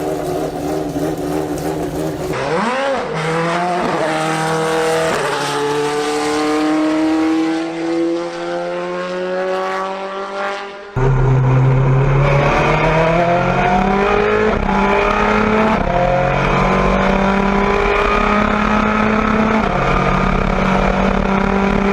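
A Corvette C8R race car at the 24 Hours of Daytona screams past with a high, rising engine note, then drops pitch as it passes before a second car roars through loud and close, its revs climbing through gear changes.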